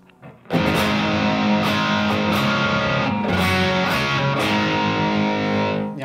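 Electric guitar through a NUX Horseman overdrive pedal with its mid boost switched on, a dense, driven chord ringing out loud and sustained for several seconds before cutting off.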